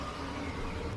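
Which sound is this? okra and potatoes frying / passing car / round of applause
passing car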